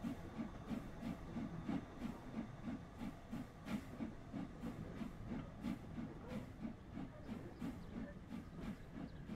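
Steam locomotive Thunderer labouring up the steep Lickey Bank incline, with a steady rhythm of heavy exhaust chuffs and an underlying mechanical rumble, heard from the train.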